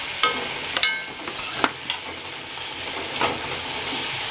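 Tomatoes and onions sauté in an iron kadai pan, a steady close sizzle with a few sharp stirring scrapes and clinks scattered through.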